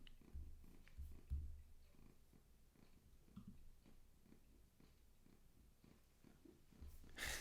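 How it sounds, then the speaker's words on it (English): A cat purrs close and quiet in a soft, steady rhythmic rumble, with faint small clicks and rustles and a louder bump near the end. "can you hear her purring on the camera?"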